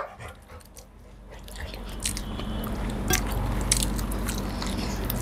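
Crunchy, close-up bites and chewing of raw onion during a meal of tandoori roti and chicken tikka, with repeated crisp snaps over a steady low background.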